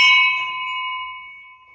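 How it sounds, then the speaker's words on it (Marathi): A single bell is struck at a Maruti temple partly submerged by the sea near Alibag. The bright metallic ring is clear and close, then fades slowly with nothing else heard. "बेल"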